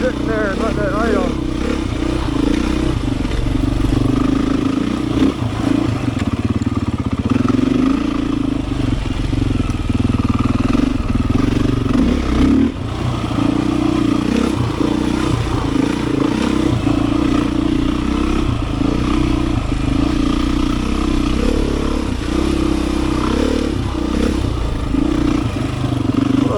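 Beta 500 dirt bike engine running steadily while riding a forest trail loop, a constant loud drone with occasional clatter and scrapes, heard under continuous rider talk.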